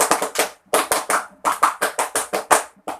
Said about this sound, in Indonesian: 1 kali tepuk pramuka.